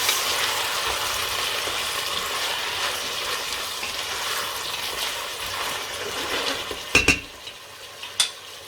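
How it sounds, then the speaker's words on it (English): Brinjal and carrots are stirred in a pot for a Kerala-style sambar, giving a steady soft hiss and scraping throughout, with a few sharper clanks of utensil on metal near the end. "Give that a good mix."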